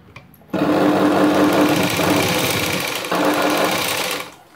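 Close, loud sewing machine stitching a princess-cut blouse piece, a fast steady mechanical whir running about four seconds with a slight dip midway, alone.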